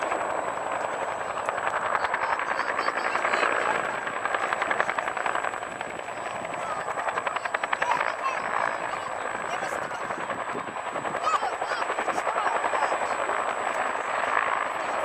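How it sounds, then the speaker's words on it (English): Rapid rotor thumping of Cobra helicopters flying in formation overhead at a demonstration, a steady pulsing drone throughout with a faint whine, loud and continuous. "demonstrating the helicopter's ability to fly in any direction"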